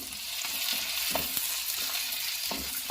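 Tomato and tamarind sauté in a hot pan for garlic chili chutney, giving a steady close sizzle broken by a few soft stirring scrapes.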